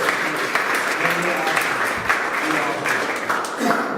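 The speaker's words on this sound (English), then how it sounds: "So can you guys just give a round of applause to Matt?" A church congregation applauds, a dense patter of many hands clapping together at moderate loudness, with voices audible faintly underneath.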